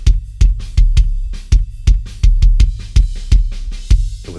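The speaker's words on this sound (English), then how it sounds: "that's the sound of the kick mics" Kick drum mics with effects applied play back a close, punchy drum groove, heavy low thumps falling in a quick steady pattern with bright attacks, no voices.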